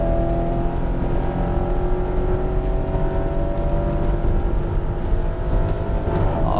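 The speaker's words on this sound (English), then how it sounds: "let's listen to the motor" A 2019 Dodge Challenger R/T Scat Pack engine roars continuously at high revs on a track, loud and close, holding a steady growl with rising harmonic tones throughout.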